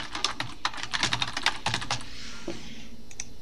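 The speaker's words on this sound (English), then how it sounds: "I can type in the addresses of team members that I want to add." Quick bursts of keystrokes on a computer keyboard while entering email addresses to add team members to a Google Drive team drive, close and clear, with a brief pause before a last few taps.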